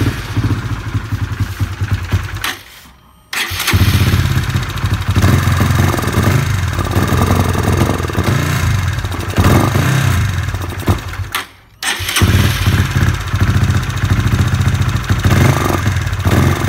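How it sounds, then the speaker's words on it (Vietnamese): A Honda Winner motorcycle engine with a noisy, rattling top end starts and idles loudly close by. A steady clattering rumble is cut by two brief silences, each followed by the engine running again. "Giờ mình nổ máy thử cho bạn nghe."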